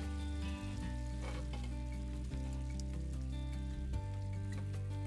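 Chicken paillards sizzle in a skillet with a soft, steady fry crackle under a prominent low mechanical hum and tonal drone.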